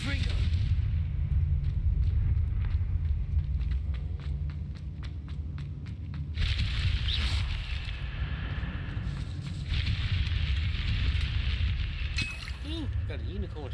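A Confringo fire spell bursts in a Hogwarts video game, loud rumbling blasts and crackling impacts layered over busy game noise, with a short series of sharp clicks and several heavy booming surges.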